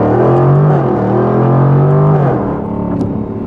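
A 2024 Jaguar F-Type R75 roars under hard acceleration after downshifting, its loud engine note climbing steadily from inside the cabin before easing off.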